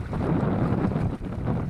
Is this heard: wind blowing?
yes